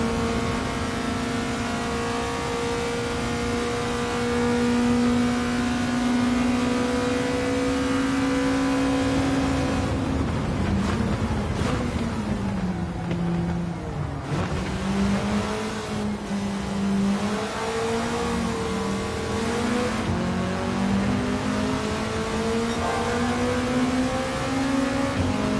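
A Ferrari Mondial races in Gran Turismo 7, its engine note rising steadily through the gears, dropping sharply on a shift or lift, then climbing again, loud and continuous with no talking.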